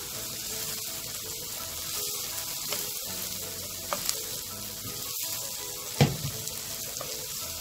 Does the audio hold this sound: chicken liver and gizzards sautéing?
yes